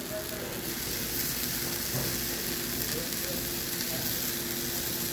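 Washed fish and fish masala sizzle and fry steadily in a pan as the mix is stirred, a constant close hiss with no breaks and no talk over it.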